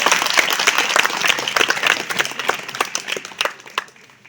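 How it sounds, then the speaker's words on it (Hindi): An audience at a lecture on millets breaking into applause, dense steady clapping from many hands that thins out toward the end, with no one speaking over it. "वेदांत साहू जो है तो कॉमर्स के, लेकिन वो आपसे एक प्रश्न पूछना चाह रहे हैं, जिनके लिए एक बार जोरदार तालियां बजा दीजिए।"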